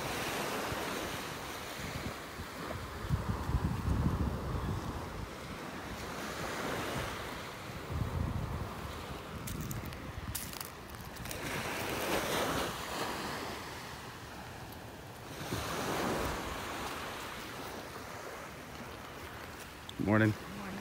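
Ocean waves wash onto a beach at North Naples, Florida in slow, repeated surges, with gusty wind buffeting the microphone on a morning beach walk. A faint sharp knock comes near the end.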